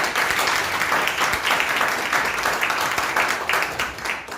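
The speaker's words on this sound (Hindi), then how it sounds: "तालियां बजाएंगे" Audience applause at a medical entrance selection celebration at a coaching institute, a loud, sustained roar of many hands clapping that continues unbroken and tapers slightly at the end.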